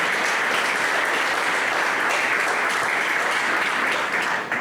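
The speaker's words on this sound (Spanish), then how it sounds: "apláudele fuerte" A church congregation applauds at a sermon, steady dense clapping filling the hall continuously at full volume, with no talking.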